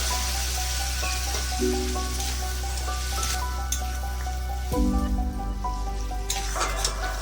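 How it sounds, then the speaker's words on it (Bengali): Banana stem and potatoes boil in a pot with a continuous bubbling crackle over a low steady hum, and it grows louder and rougher partway through. "আলু থোড় সেদ্ধ হয়ে গেছে, ফুটে উঠেছে"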